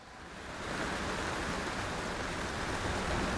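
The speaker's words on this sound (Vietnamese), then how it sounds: "trời mưa to quá" Heavy rain in an animated film, a dense, even hiss of downpour that swells in over the first half-second and then holds steady and fairly soft, with no voices.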